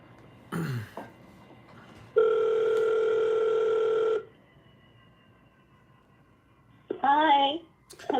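Outgoing phone call ringback with two long steady electronic ring tones, close and clear, followed by a warbling tone; a person clears their throat before the rings.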